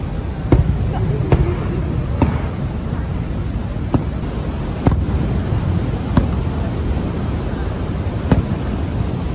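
Fireworks burst at Niagara Falls, sharp distant pops recurring every second or two over a constant roar of rushing water and wind.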